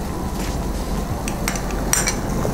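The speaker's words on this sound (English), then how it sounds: "At this stage, I will add some crushed garlic along with some grated ginger" Crushed garlic and grated ginger going into a pan of translucent sautéing onions for a soya dish, with light clinks of a utensil against the pan over a steady low sizzle and no talking.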